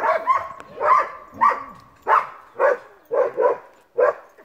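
A wire-haired dachshund gives a run of sharp, close barks and yips at a steady rhythm during obedience training, each bark loud and separated by short pauses.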